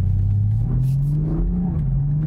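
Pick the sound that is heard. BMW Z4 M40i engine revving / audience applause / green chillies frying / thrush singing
BMW Z4 M40i engine revving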